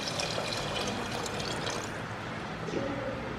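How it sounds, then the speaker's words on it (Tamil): Water poured onto vegetables in a cooking pot for Kerala sambar, a soft continuous trickling pour that stays fairly quiet throughout and ends in a brief sharp knock. "அதுக்கு வந்து தண்ணி ஊற்றிடுங்க."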